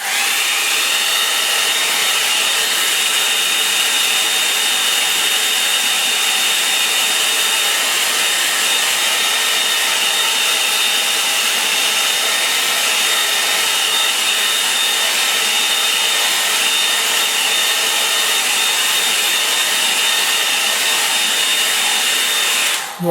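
A hair dryer blows steadily to dry a wet watercolour wash on paper, a loud, unbroken whirring roar with a high whine that runs the whole time and then cuts off at the end.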